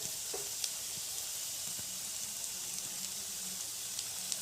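Onions sizzling in a frying pan while cooking an Assamese fish curry, a steady soft hiss throughout with a few faint stirring clicks, no voices.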